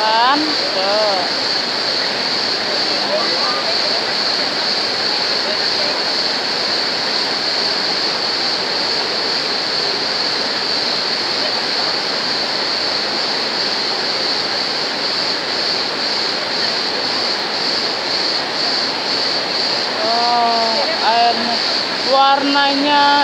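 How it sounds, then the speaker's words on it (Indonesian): Water splashes steadily from a fountain outdoors in Turkey, a continuous close rushing hiss throughout, with faint voices talking briefly near the end. "Air mancur bukan air terjun ya kan?"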